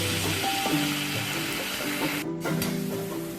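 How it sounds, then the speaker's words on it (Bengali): Bottle gourd frying in a pan with cumin and green chillies, a steady close sizzle and crackle running throughout with faint clinks of stirring. "এবার লাউটাও কিন্তু একই সাথে আমি একটু ফ্রাই করে নিচ্ছি"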